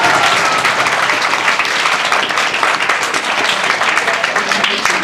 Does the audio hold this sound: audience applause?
yes